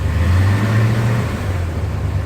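A car engine hums close by, its pitch climbing and wavering slightly as the revs rise over a couple of seconds.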